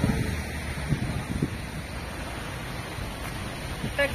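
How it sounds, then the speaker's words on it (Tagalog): Strong wind gusts blast the microphone in heavy, uneven buffeting, with faint background noise and no clear voices. "Lakas ng hangin."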